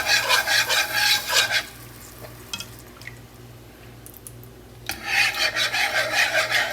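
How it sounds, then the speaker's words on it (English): A whisk rasps rhythmically against a pan as heavy cream is worked into a roux for lobster mac and cheese, two close bursts of rapid scraping strokes separated by a quieter pause, no talking. "whisking it in together with the roux before I add the remaining"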